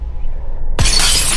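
After a quiet hum, a hammer blow lands on a mirror in a luxury apartment, and the glass splinters with a sudden loud crack followed by a bright, lingering shattering rasp.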